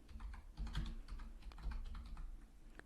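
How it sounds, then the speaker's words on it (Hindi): Soft, rapid keystrokes on a computer keyboard while a drive is named in Tally Prime, with irregular clicky taps and occasional heavier key presses, quiet and close, with no voices. "अपने कीबोर्ड पे बैकस्पेस की प्रेस करनी है एंड अपने ड्राइव को एक नाम देना है"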